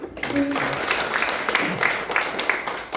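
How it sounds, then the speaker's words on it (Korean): An audience at a Korean history forum breaks into applause, a dense, steady clapping from a roomful of people lasting throughout, with faint voices underneath near the start. "박수"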